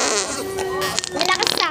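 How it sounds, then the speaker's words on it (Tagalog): A loud, close fart rasps out as a sustained buzzy tone before breaking into a few sputtering bursts, with voices talking around it. "Umutot."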